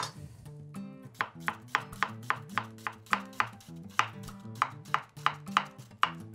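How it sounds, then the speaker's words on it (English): A large onion being chopped with a knife, about half of it: crisp, regular blade strikes on a cutting board, roughly two per second, close and clear with no talking. "first I'm going to cut the onion"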